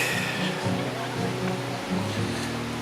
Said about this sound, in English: And I'm right beside the river.